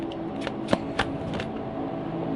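Tarot cards are shuffled in several quick riffling bursts close to the microphone, with a faint steady background hum.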